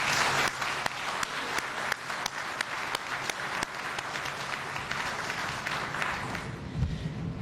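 An audience at a formal political ceremony with the Congolese head of state present breaks into sustained applause, dense clapping with sharp individual claps standing out and tapering slightly near the end.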